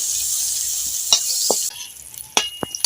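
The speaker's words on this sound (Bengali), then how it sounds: "করলাটা লাল লাল করে ভেজে নেব।" Salted bitter gourd dusted with turmeric frying in a pan, a close hiss of sizzling oil that suddenly drops away, followed by a few sharp clinks and scrapes of a utensil.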